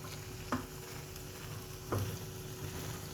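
Beaten egg for a puffy Thai condo-style omelette fries in oil, giving a faint, steady sizzle with two brief scraping knocks from a utensil against the pan.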